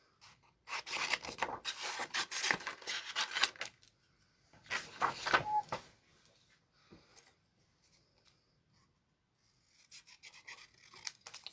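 Scissors cut paper close by in brisk rustling, snipping bursts, one long run followed by a shorter one and then faint scraps of handling.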